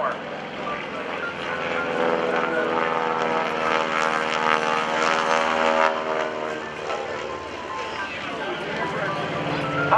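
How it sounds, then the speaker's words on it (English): A propeller plane flies aerobatic maneuvers at the 2012 NAS Oceana airshow, its engine drone rising and falling with pitch shifts as it passes, loud and sustained while an announcer talks over it. "he'll roll the aircraft upright with a half a roll into the upright position, doing one half of the Cuban 8 maneuver"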